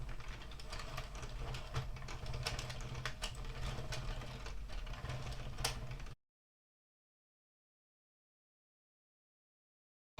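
Addi or Sentro circular knitting machine casting on with waste yarn, a rapid run of plastic clicks and clacks from the cranked mechanism lasting about six seconds before cutting to silence.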